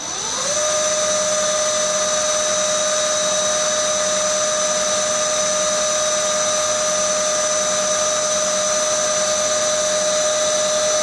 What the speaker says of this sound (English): I'm going to show just the quietness of the spindle at the higher RPM